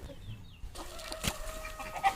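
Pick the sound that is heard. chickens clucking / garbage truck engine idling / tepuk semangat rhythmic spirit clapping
chickens clucking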